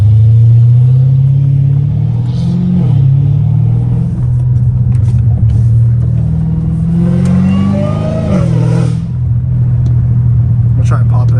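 Dodge Hellcat Redeye fitted with a catless downpipe and catback exhaust, its deep engine drone rising and falling through revs loud and close from inside the cabin, with a person talking over it.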